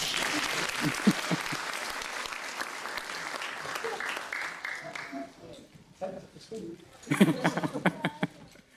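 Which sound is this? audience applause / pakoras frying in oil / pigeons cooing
audience applause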